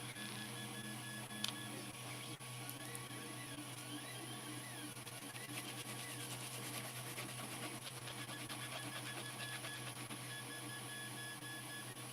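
A printer runs steadily in a workshop, a constant mechanical whir with tonal hum and faint high whine, one small clack early on, no voices.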